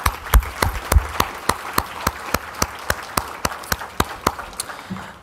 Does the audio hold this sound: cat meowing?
no